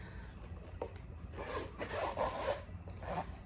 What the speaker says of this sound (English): So it has a zipper